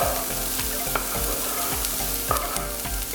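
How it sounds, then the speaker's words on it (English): Zucchini and eggplant frying and being stirred in a pan for a sweet potato and kangaroo cottage pie: a steady close sizzle broken by scraping and clinking stirring sounds, with no talk. "next we're going to chuck in our zucchini and our eggplant"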